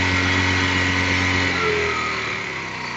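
A motorcycle engine runs close and loud right after carburetor tuning, holding a steady revved drone before the tone shifts partway through and eases slightly lower toward the end.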